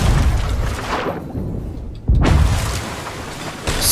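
A cannon blast in an Italian-language video game set at Port Merrick, booming loud and broadband, briefly dropping away and then hitting again with a sharp second boom and lingering rumble.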